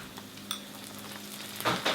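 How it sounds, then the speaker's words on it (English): Ginger and garlic paste sizzles in hot oil with browned onions, a steady close frying hiss with a few brief stirring scrapes and bursts of sharper crackle near the end, no voices. "While that's just sizzling, what we are going to do now is add the chicken."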